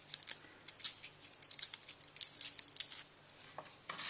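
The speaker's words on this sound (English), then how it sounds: "I'm going to add in a clove of garlic, which I will peel." Papery skin being picked and peeled from a garlic clove in a kitchen: a busy run of close, crisp crackles and small snaps, irregular and dense throughout.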